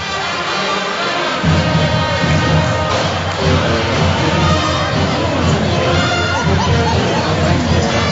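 A large crowd fills a high school boys' basketball gym at Wayne: a dense, loud roar of chatter and shouting, with cheers swelling after a quieter first moment.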